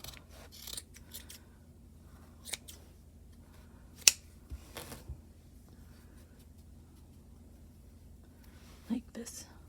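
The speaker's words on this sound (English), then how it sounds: "Now we're going to cut this using heavy duty scissors." A few sharp snips from heavy-duty scissors cut through yarn for a pom-pom at scattered moments, close by, with soft whispering and quiet handling sounds in between.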